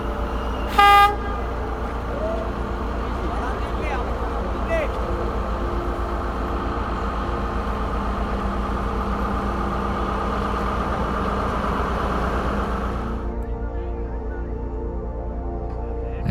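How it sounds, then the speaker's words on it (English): A tourist train crossing Nine Arches Bridge in Sri Lanka gives one short, loud horn toot near the start, then a steady rumbling drone of rolling carriages runs for most of the stretch before dropping away near the end. "we are very lucky to witness a train actually passing by across this Nine Arches Bridge"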